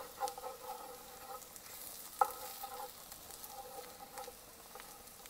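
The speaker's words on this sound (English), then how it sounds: "Just get that stirred around real good." Beans and meat being stirred in a pot on the stove, a faint spoon scraping with soft simmering sizzle and one sharper clink partway through.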